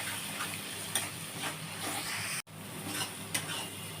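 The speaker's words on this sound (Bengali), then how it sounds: "মশলাটা কষা হবে বন্ধুরা" Spice paste for parshe fish tel jhal fries in oil with a moderate, even sizzle and occasional stirring swishes, briefly cut by a sharp dropout near the end.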